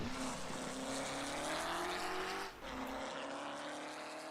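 A Porsche 919 hybrid prototype race car lapping Le Mans, its engine a loud, continuous high-pitched howl that sweeps up in pitch, dips briefly under braking with a slight lockup through a chicane, then pulls hard again.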